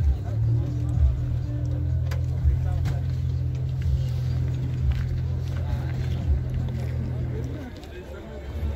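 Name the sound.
car engine running and revving at car market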